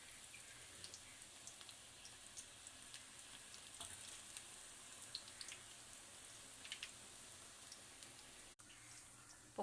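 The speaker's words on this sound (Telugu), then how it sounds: "పకోడీ అంతా ఆయిల్లో" Onion pakoda frying in hot oil, a quiet, even sizzle with scattered small crackles and bubbles throughout, heard alone without talk.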